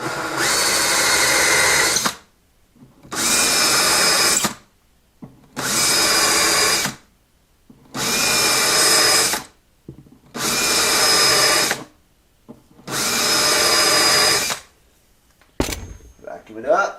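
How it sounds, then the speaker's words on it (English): A power tool enlarges the bridge pin holes on a Martin D-35 acoustic guitar, whirring loudly in six even bursts of about two seconds with short pauses between, close up. "I'm going to make the hole bigger right now"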